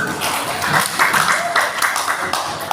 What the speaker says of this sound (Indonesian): beri tepuk tangan untuk kedua paslon